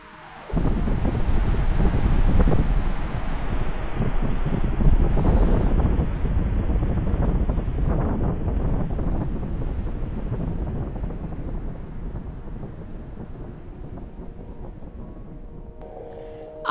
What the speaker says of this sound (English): Even you can hear the sound of wind and water gushing all around.